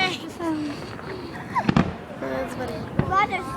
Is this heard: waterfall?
no